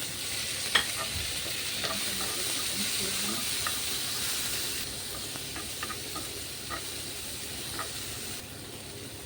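Garlic, chopped tomato and chili frying in a pan, a steady soft sizzle and hiss with occasional stirring scrapes and clinks, close and fairly quiet throughout.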